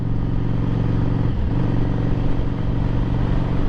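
A motorcycle engine drones steadily while out on a ride, a close, continuous rumble with little change in pitch and no pauses.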